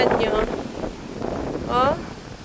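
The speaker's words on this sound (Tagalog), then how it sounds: "Malakas yung hangin talaga, oh." Strong wind blowing at an outdoor playground, rumbling gusts buffeting the microphone, with voices talking briefly over it.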